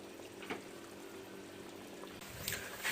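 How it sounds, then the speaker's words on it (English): Meat simmering in a pot on slow heat for a Sunday dinner gives a faint, steady low bubbling hiss, with a soft clink around the middle and a slightly louder stir of liquid near the end. "Food will cook from there very nicely on a slow heat"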